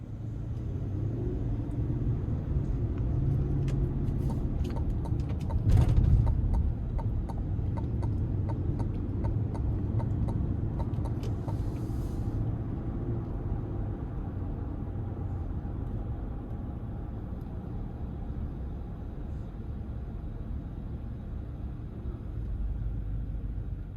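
A 2026 Cadillac Escalade Platinum with the 6.2 engine cruises on the road, a steady low cabin rumble of road and engine noise, with a brief louder thump and some light ticking early on.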